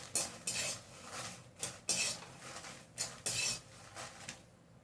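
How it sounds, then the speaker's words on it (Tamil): Dried red chillies are fried and stirred in a pan, with repeated scraping strokes of a spatula against metal in bursts, fairly quiet and close with a faint background hiss. "நல்லா ஃப்ரை பண்ணிக்கோங்க காஞ்ச மிளகாய்."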